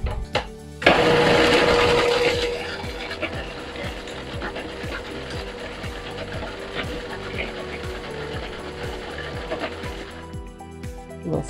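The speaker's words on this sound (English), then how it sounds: "And blend that in." A blender whirs loudly while blending green goddess dressing, starting with a sharp surge, then settling into a steady mechanical grinding drone with a rapid rattling pulse, stopping abruptly near the end.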